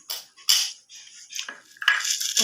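Spoon stirring chatpati ingredients in a bowl, clinking and scraping in short, uneven bursts with brief pauses, close and fairly loud, no talking.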